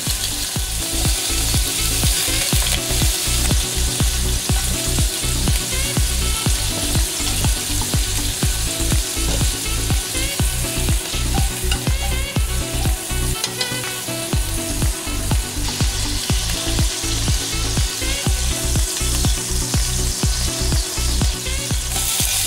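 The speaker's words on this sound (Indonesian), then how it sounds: "lalu kita masak terlebih dahulu udangnya selama 2-3 menit hingga udangnya berubah berwarna pink" Steady, loud sizzling of shrimp frying in hot oil in a wok for pad thai, with rapid rhythmic scraping and clinking of a utensil stirring in the pan throughout.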